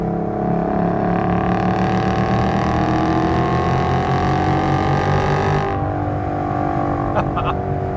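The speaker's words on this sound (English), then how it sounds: "This one has the Corsa mufflers in the back, so just a little bit louder than the factory mufflers" A 2012 Ford Boss 302 V8 with Corsa mufflers idles and revs with a deep, rumbling, loud, throaty exhaust note, then settles lower near the end.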